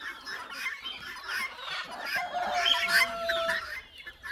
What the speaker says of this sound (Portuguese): Deixa eu mostrar as galinhas, pessoal.